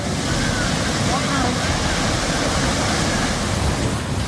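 The flooded Beas river in Kullu, swollen by cloudburst rains, roars with a loud, unbroken wall of rushing water and no pauses.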